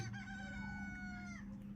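Chickens at a poultry market, a rooster's drawn-out crow rising over a steady low hum of clucking birds, fairly faint and continuous.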